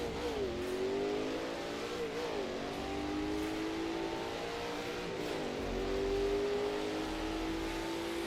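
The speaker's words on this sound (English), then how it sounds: "I just added a little throttle and the car just pulled forward" A Chevrolet Dekon Monza restomod race car in Assetto Corsa drones and revs, its engine pitch rising and dipping through gear changes, steady and moderately loud with no talking over it.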